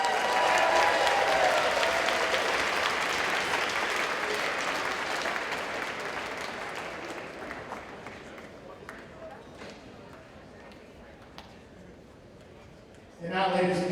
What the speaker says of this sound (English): a big round of applause for these great young kids